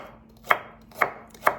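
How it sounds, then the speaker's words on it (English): A knife chops through cauliflower on a cutting board in three crisp, evenly spaced strikes, close and distinct with no talking. "So I start chopping like this"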